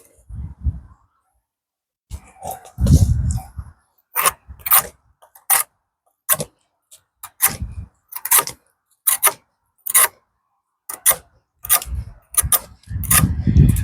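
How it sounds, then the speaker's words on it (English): Bark being stripped off a tree limb at a forest base camp: a series of short, sharp scraping and peeling strokes, close and uneven in rhythm, with quiet pauses between. "taking the bark off of a limb like this is probably one of my most favorite things"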